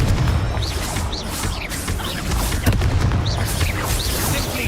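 Confringo blasting-curse explosions in Hogwarts Legacy, loud booming crashes and whooshing spell bursts layered over a dense, rumbling combat soundscape.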